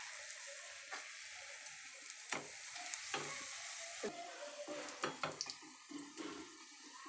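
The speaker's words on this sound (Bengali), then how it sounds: "আমি কিন্তু লাল লাল করে এইবারে ভেজে নেব পরোটাটা" An egg paratha browning in a hot pan gives a continuous close sizzle, with clicks and spatters of stirring or turning toward the end.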